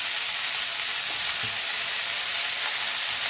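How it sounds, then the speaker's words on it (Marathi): Chopped dill greens drop into a pan of frying ground peanut and green chili masala, setting off a dense, continuous close-up sizzle and hiss with faint stirring underneath. "यामध्ये टाकत आहे मी सर्व चिरलेली भाजी"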